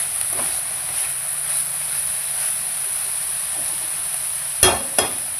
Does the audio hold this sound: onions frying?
yes